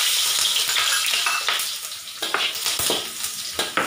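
Garlic sizzles loudly in hot oil in a pan, with a steady dense crackle and occasional scraping stir strokes throughout.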